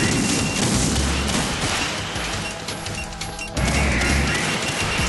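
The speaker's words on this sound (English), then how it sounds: "Stop shooting at me." Video game gunfire from Metal Gear Solid 2: dense, continuous bursts of shots and crashing impacts fill the whole stretch, loud and close, with a brief dip near the end before the barrage resumes.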